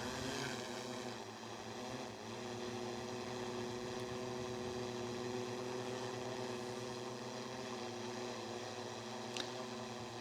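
A DJI Matrice 4T drone's propellers give a steady, even hum in flight, with a sustained tonal whine that holds constant for the whole stretch and no voices.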